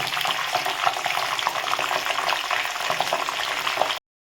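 Curry leaves, coriander and cumin hit hot oil for chivda, producing a loud, dense, crackling sizzle that continues steadily for about four seconds before cutting off.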